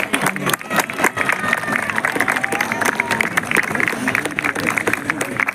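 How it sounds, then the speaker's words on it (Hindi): Audience applause fills a hall for a man who has donated blood 131 times, a dense wash of clapping with crowd murmur and cheering running steadily throughout. "जोरदार तालियां।"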